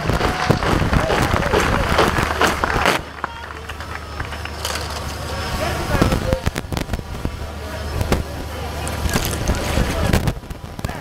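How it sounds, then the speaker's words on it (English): Crowd applause at a Nigerian Navy basic training school passing-out parade, saluting drill instructors: dense clapping and cheering loud at first, dropping after three seconds to a steadier outdoor patter with sharp bursts, a low hum beneath throughout. "May we give these drill instructors a round of applause."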